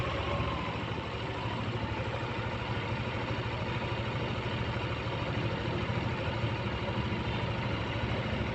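A Yamaha Nmax scooter engine runs with the throttle held up during a coolant flush with water, a steady close-up engine drone with no clear talking.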